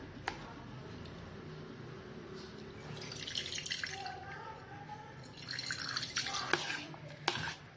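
Soft splashing and dripping water as freshly churned butter is swished and rinsed in a bowl of water, with a few sharper clinks, close and moderately quiet.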